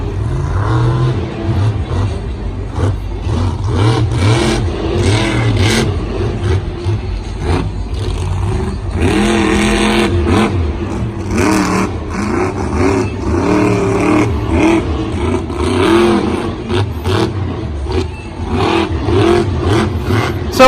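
A monster truck engine at a Monster Jam event in Santa Clara, 2019, roars and revs loudly throughout, rising and falling in pitch over a steady arena din.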